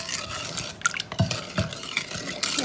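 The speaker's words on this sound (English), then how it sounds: "So I'm going to dissolve it in the 1 cup of boiling water." Jello powder being stirred into a cup of boiling water in a dish, a spoon scraping and clinking against the sides in a steady stirring rhythm, close and moderately loud with no voice.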